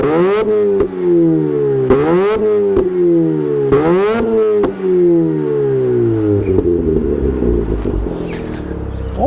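Mazda RX8 rotary engine revving hard in repeated bursts, each rising to a high-pitched scream and falling back to idle, loud and close, settling into a rough idle at the end.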